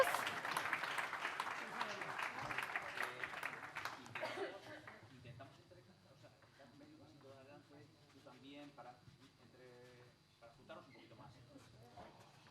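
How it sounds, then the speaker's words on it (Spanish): Audience applause for panel speakers at the first Kirolean Errespetuz forum, loud for about four seconds then fading into scattered claps as people talk nearby. "Un aplauso para ellos, para esa foto de grupo en esta primera edición de Kirolean Errespetuz."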